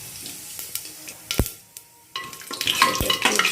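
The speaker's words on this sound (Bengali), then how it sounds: "এই তেল গরম হওয়ার পরে এই যে গোটা গরম মশলা দিয়ে দিলাম, আর দেবো একটু গোটা জিরে।" Whole garam masala and cumin seeds crackle and sizzle in hot mustard oil in a pan, with a few sharp clinks of a utensil, the frying swelling louder and denser toward the end.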